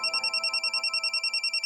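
A telephone bell ringing in a rapid, steady trill of pulsed electronic tones, clear and fairly close with no talk over it.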